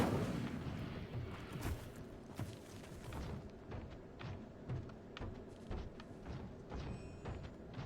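Spells are cast in the Hogwarts Legacy video game, including the Incendio fire spell: a faint series of dull thumps and short bursts recurring irregularly over quiet background, with no voices.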